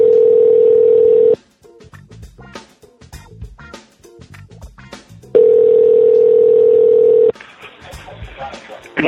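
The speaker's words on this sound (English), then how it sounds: "In a moment you will hear a dial tone." A steady telephone dial tone, loud and close, cuts off abruptly, followed by rapid dialing clicks and beeps, then the tone returns and line noise follows.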